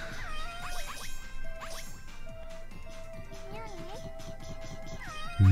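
Cat meows from the video game Gal*Gun Returns, several rising and wavering meows over game music and effects, fairly loud.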